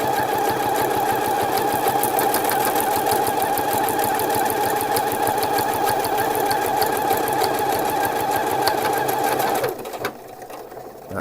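A sewing machine stitches fabric for a summer shirt in a fast, steady run of even needle strokes, close and loud, before stopping abruptly near the end.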